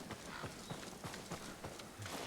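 Horse hooves clip-clop at a steady walking rhythm as a mount crosses a bridge in the video game Ghost of Tsushima, soft and even with no voices over them.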